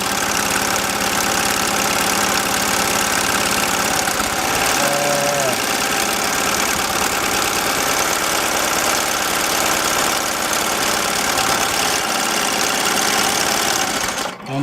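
Embroidery machine stitching a quick underlay and satin fill on a Christmas sweatshirt, a loud, fast, continuous mechanical chatter that runs steadily close up and stops abruptly at the end.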